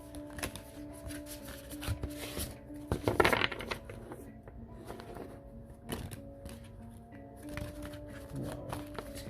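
Tarot cards being shuffled by hand close up, with bursts of riffling and flicking, a sharp clattering flurry in the middle, and soft card handling between.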